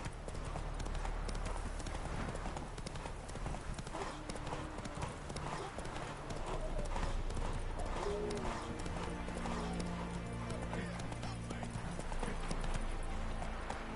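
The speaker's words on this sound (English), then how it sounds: "Run, Roach" Horse hooves clip-clop at a steady galloping rhythm in The Witcher 3, with occasional whinnies over a constant bed of game music and ambience; a brief voice speaks.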